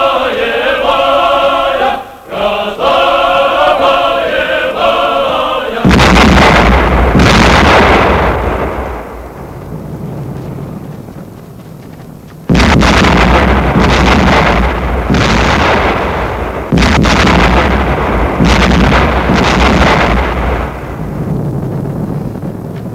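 War-film battle at sea near Kronstadt: dense, loud rolling gunfire and artillery blasts in sustained roaring bursts, preceded by a stretch of music-like tones, with booms repeating and decaying throughout.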